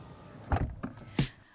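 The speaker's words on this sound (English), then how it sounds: "All I need to do is press on the brake pedal, and the door will gently shut for me." A Mercedes-Benz EQS 580 door closes itself automatically, producing three soft thuds: a motor-driven whir and bump, a smaller knock, then a firm final latch, close and moderately loud.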